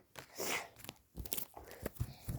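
Crinkly tearing of a trading card pack's plastic wrapper, done by hand, with a long rip followed by sharp crackles and rustles, close and fairly loud.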